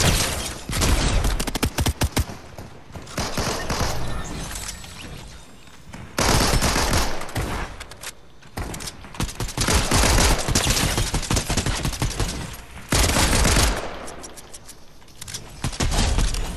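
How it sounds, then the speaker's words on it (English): Rapid automatic gunfire in Fortnite on PS4, loud bursts of sustained shooting that come and go across the clip with brief quieter gaps between volleys. "Why are you shooting me?"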